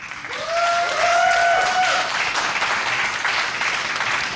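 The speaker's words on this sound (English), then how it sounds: "give Blizzard in the house a big round of applause" A crowd at a StarCraft 2 tournament breaks into loud, sustained applause and cheering that swells quickly and holds steady, with a couple of whistles near the start.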